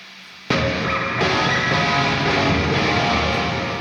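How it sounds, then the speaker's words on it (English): Electric guitar run through a fat plate reverb in Tonocracy, placed between amp and cab with the mix turned up, rings out loud and dense after a brief quiet start, a washy sustained wall of chords with long reverberant tail. "Let's throw on some reverb fat plate."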